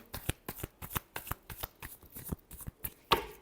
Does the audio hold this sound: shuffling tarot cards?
yes